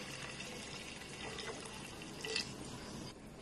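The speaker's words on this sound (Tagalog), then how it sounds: "So yan, kumukulo na" A faint, steady bubbling and watery churn of water boiling in a pot, close but quiet, with a brief louder splash near the end.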